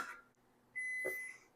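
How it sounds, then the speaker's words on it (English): Kitchen timer goes off after ten minutes during homemade kombucha making, a short high electronic beep, quiet and close in an otherwise still room. "That's our 10-minute timer."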